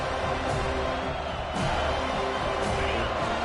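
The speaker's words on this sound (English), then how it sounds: "Here comes this home crowd as the defense tries to get off the field on third down" Home crowd at a college football stadium, Alabama versus Florida State, roars steadily through a third-down defensive stand, a dense continuous wash of cheering and noise with slight swells rather than distinct peaks.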